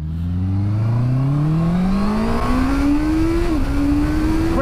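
Honda CBR650R middleweight sports motorcycle accelerating hard through the gears, a loud rising engine note that steps down abruptly at a quick-shifted upshift and climbs again, close and continuous with no talk.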